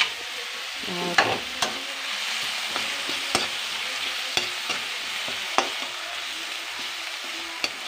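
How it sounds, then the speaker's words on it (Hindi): Tomatoes salted in a pan for poha fry with a constant soft sizzle, punctuated by sharp scrape-and-tap strokes of a stirring spoon roughly every second. "ये हमारे टमाटर हो रहे हैं, इनको हम होने देते हैं।"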